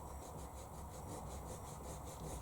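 An eraser rubs out pencil lines on watercolour paper in a steady, soft scrubbing rhythm, close up and quiet, with no voices.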